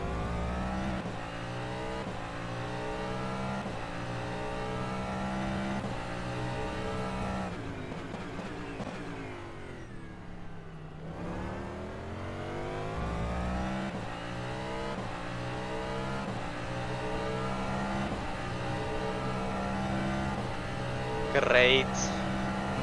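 A DPi hypercar engine in the rFactor 2 racing sim at Spa-Francorchamps drones steadily and loudly throughout, its harmonic pitch climbing and falling through gear changes with a dip mid-clip.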